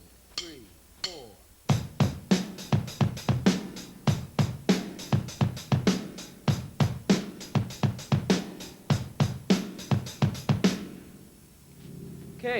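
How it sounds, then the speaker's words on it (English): A rock beat on a drum kit with accented hits, played close and loud in an even driving pattern after a few stick clicks, ending in a ringing cymbal decay. "If you don't want to play that fast kick that I just did, we'll pick up the accents on it."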